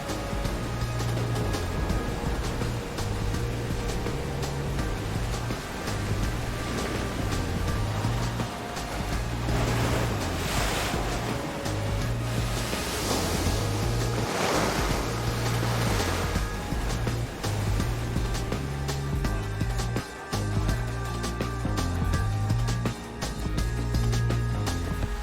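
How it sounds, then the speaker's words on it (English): A tidal bore surges up a river as a single advancing tide, a loud continuous roar of rushing water with broadband swells and a steady low rumble throughout, no voices. "eventually it overcomes the draining of the river and then bursts up in this single tide"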